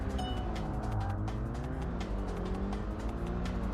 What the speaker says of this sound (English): The cars do backfire.